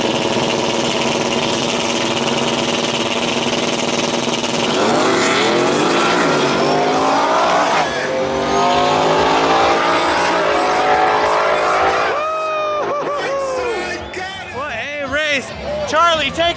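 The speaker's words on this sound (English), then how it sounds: "Grudge race coming up next." Ford F-150 and Chevrolet S10 Sonoma trucks, one turbocharged, run a grudge drag race, their engines roaring loud and steady under crowd chatter before the sound thins and breaks up near the end.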